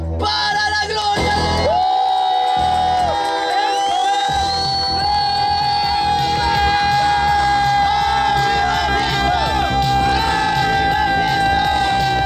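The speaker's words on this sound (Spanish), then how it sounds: "Muchachos que gritan por mí." A crowd of young people at a church healing campaign shouts and cheers loudly and continuously, with whooping voices and a sustained tone running beneath the noise.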